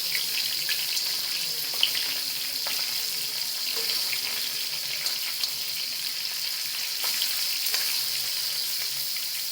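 Stuffed bitter gourd frying in a pan of oil, a steady close hiss of sizzling with faint clinks and scrapes as the pieces are turned, no talking.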